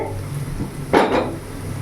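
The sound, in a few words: opening the lid of a pan of fried vegetables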